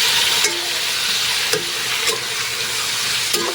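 Chicken necks fry and get stirred in a pan, a steady sizzle running throughout with a few sharp scraping clicks of the utensil against the pan at intervals.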